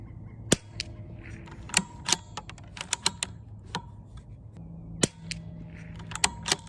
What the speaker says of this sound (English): These shots are pulling left all of a sudden.